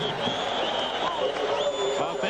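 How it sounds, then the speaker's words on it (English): A large stadium crowd at the 1982 Rose Bowl, Washington against Iowa, roars and cheers continuously in a broad wash of noise, with a broadcast announcer talking over it. "Crowd has lost none of its enthusiasm."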